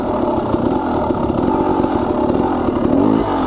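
An enduro motorcycle engine runs steadily under clutch and throttle control while the rider works the front brake, a dense continuous mechanical drone with small surges, close and loud throughout, and no talk over it.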